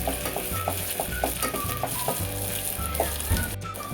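Onion sautés in a hot pan for a brinjal and potato vegetable dish, giving continuous frying sizzle with rhythmic stirring scrapes and occasional utensil taps, close and steady, with no voices.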